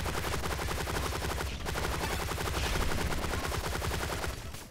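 Dense enemy gunfire in the video game Relic Hunters, rapid overlapping shots rattling continuously and loudly for several seconds, with one brief dip partway through.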